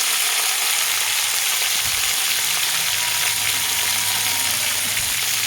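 Potatoes, bitter gourd and pumpkin fry in a pan, giving a steady, loud hissing sizzle with a few soft stirring bumps, close up and without talk.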